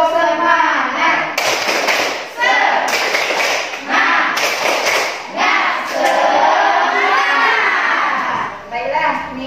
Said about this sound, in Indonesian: Untuk lebih semangat, kita tepuk semangat terlebih dahulu.